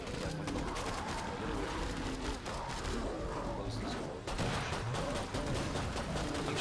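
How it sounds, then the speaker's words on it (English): Pistol shots ring out in Killing Floor 2 amid a dense, noisy firefight with other gunfire and mechanical clatter mixed in. "I'm shooting this guy in the back of the head with a pistol"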